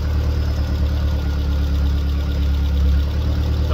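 Badger 5 race engine running just after its first start, a steady loud idle with a low throbbing rumble and faint mechanical knocking, close up and uninterrupted.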